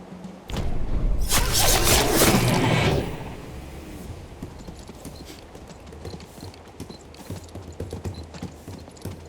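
Horse hooves clip-clop in the fantasy strategy video game King's Bounty II as mounted units move across the battlefield. A loud burst of rapid clattering hooves and a whoosh opens the clip, then fades to lighter mechanical ticks and clicks.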